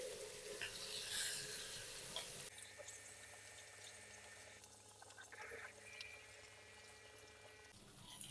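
Fish frying in a pan with a little oil, a soft steady sizzle that is louder at first and then settles into a quieter, continuous crackle.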